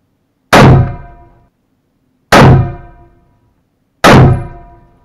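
Three loud, sharp gunshots from a Hakim semi-automatic rifle in 8x57 IS, evenly spaced about two seconds apart, each a close, hard crack with a decaying ring.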